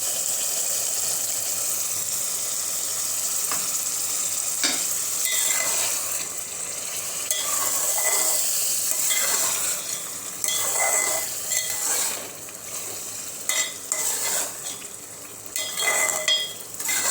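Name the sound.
keema sizzling in pan after adding half glass of water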